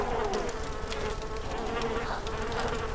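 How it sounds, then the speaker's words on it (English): A distant helicopter in the DayZ video game gives a steady, unbroken drone that hangs in the background, with no one speaking. "Yeah, I hear that chopper coming back."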